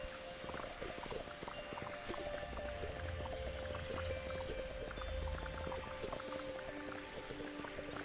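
Water is vacuumed up in the Fresh Start Cleaning Simulator video game, making a faint, steady gurgling slurp with a low hum running underneath the whole time.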